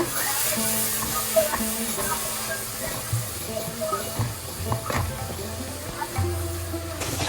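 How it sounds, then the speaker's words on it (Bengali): Chili powder and coriander masala fries in a pan for a beef tripe curry with a steady, faint hiss and sizzle, broken by soft scraping stirs and light background voice sounds. "মশলাটা ভালোভাবে কষিয়ে নিচ্ছি"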